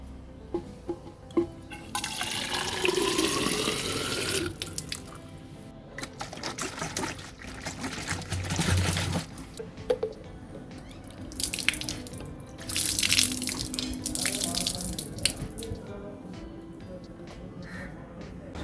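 A plastic water can is rinsed under a running tap nearby, with gushing water, splashes and trickles that swell and fade in bursts as it is turned and shaken.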